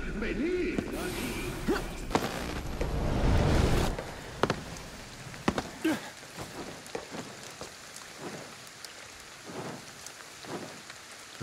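Steady rain falling in the video game Ghostwire: Tokyo, a continuous hiss with scattered drips and soft impacts, while someone talks over it in Spanish.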